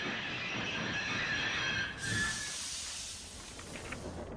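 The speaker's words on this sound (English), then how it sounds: "In the countryside, Thomas's brakes sound like this." Thomas the Tank Engine's brakes release a steady, fairly loud hiss out in the countryside. The hiss runs about four seconds, brightens sharply halfway through, then slowly tapers off, with no voices.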